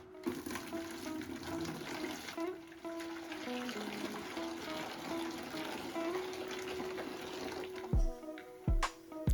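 Cool water runs steadily from a tap into a container of oxygen bleach solution for washing sneakers, a continuous close splashing stream that ends with a few bumps and clunks.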